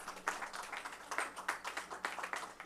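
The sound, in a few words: audience applause and cheering at a lecture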